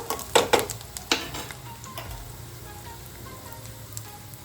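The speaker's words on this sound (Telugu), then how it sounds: "కారానికి తగ్గట్టు మిరపకాయలు కూడా వేసుకోవాలి పచ్చివాసం పోయే వరకు వేపుకున్నాక" Green chillies frying in a pan with oil, a steady close sizzle under a few sharp stirring clatters at the start, then continuing alone without talk.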